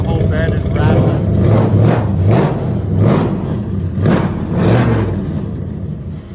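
A burnout truck with newly installed NASCAR-style boom tube exhausts revs repeatedly in loud, rising surges, about five engine swells with a rattling truck bed, heard up close under steady talking.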